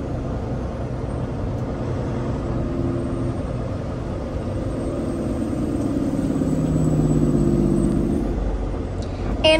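A Peterbilt 389 big truck drives along with a steady low engine rumble that swells slightly louder toward the end, heard from inside the cab with no talking.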